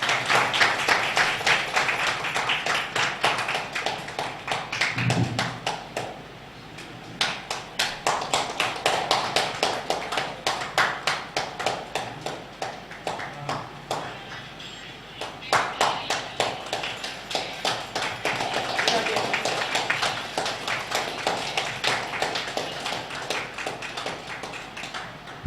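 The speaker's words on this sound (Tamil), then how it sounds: "உங்களுடைய உற்சாகமான கைத்தட்டலோட" Sustained, dense clapping from a seated audience honouring a guest speaker with a ceremonial shawl at an astrology event, continuing steadily for about twenty-five seconds with a brief dip early on and some voices mixed in.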